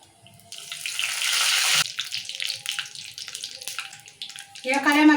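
Red chillies drop into hot oil for a tempering of cumin and mustard seeds, giving a loud hissing sizzle that bursts up and fades after a couple of seconds, followed by softer crackling and a short voice at the end.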